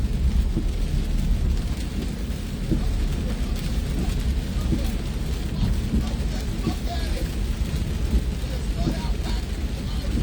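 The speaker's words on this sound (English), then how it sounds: "I'm going to the good old house to get out this here rain." Steady rain pours down with a low rumble underneath, continuous and fairly loud, while a voice speaks now and then.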